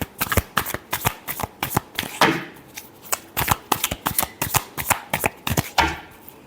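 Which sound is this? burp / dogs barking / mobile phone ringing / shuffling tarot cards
shuffling tarot cards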